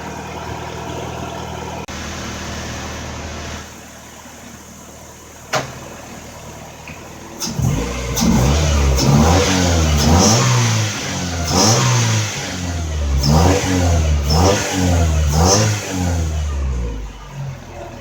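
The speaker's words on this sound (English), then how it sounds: "Damn, this motor is running really smooth." A car engine sits quietly at a low idle, then roars up through a run of repeated revs with dips between them. The engine has just been through a non-dismantle fuel injector cleaning and runs a little lean down low.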